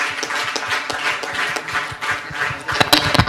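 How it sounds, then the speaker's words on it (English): Quiz competition audience at a school heritage finals in Goa clapping steadily, many hands close by in a busy, uneven patter with a few louder claps toward the end. "Now maintain this clap throughout the quiz"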